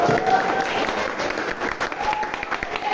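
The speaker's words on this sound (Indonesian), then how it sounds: "silakan kita beri tepuk tangan dulu buat kelompoknya" Sustained applause from a class of students in a teacher-training session at UPS Tegal, steady and dense throughout, with a voice speaking faintly underneath.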